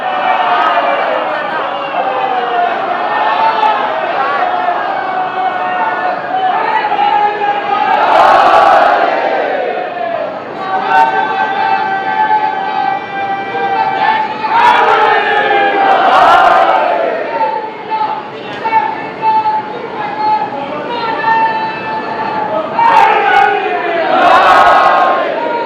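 Large crowd at an Urdu religious majlis, a farewell gathering at the Dargah-e-Aaliya Najaf-e-Hind shrine in Jogipura, raising slogans together in loud, rhythmic chanted bursts that swell and surge repeatedly, sustained and near throughout.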